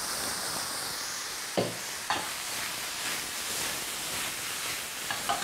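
Mushrooms seasoned with salt and pepper fry in a pan with a continuous hissing sizzle, broken by a few sharp clacks of a utensil stirring or tapping the pan.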